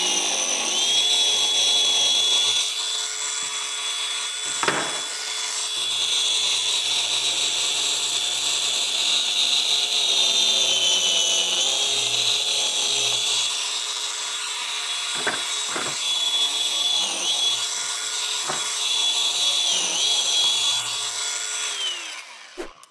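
A biscuit joiner whines steadily at high pitch as it plunges into wooden casing, running in long sustained stretches broken by a few sharp knocks and brief pauses, close and loud throughout.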